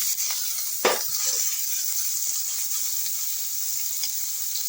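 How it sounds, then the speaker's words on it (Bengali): Chopped onion goes into hot oil with a bay-leaf tempering for a charapona fish curry. A steady, gentle sizzle continues close by, with a brief stir or clatter near the start and no talking. "এই পর্যায়ে আমি একটু কুচনো পেঁয়াজ দিলাম।"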